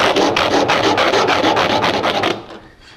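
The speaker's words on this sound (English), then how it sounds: "on the tab end we will use our square file and file down to this point" A square file rasps across the edge of a plexiglass (acrylic) letter tab, notching the tab end in quick, even back-and-forth strokes. It is close and loud, then stops abruptly near the end.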